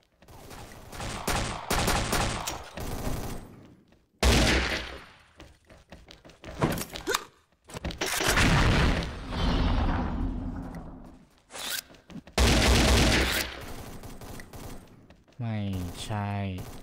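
Repeated bursts of rapid AK rifle gunfire in the game XSHOT, loud and close, with short gaps between volleys.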